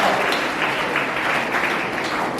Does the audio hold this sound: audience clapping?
yes